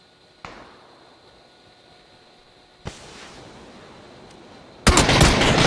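Gunshots ring out in PlayerUnknown's Battlegrounds: two single sharp shots a few seconds apart, each with a decaying tail, followed by a louder burst of fire at the end.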